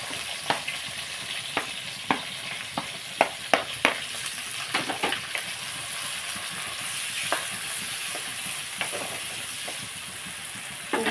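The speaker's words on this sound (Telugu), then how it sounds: "ఇప్పుడు మనం ఆనియన్స్, పచ్చిమిరపకాయలు వేసేసుకుందాం." Onions and green chillies fry in a pan, a steady sizzle broken by repeated sharp clicks and scrapes of stirring, close and alone without talk.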